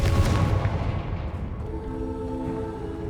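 Spell blasts from Confringo and Bombarda in the Hogwarts Legacy video game. A loud booming burst fades into a rumbling tail with a lingering tonal hum.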